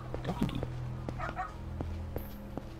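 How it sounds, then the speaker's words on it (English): Dog in Yakuza 0 giving a few short yips and barks near the start, small and fairly faint, over low game ambience with a voice talking. "Oh, there's a doggy."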